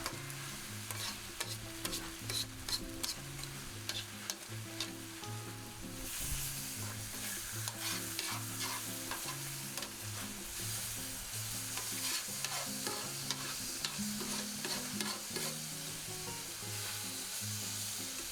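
Teriyaki-marinated beef tenderloin medallions sear in a hot pan with a steady, close crackling sizzle that runs unbroken for the whole stretch, with no voices.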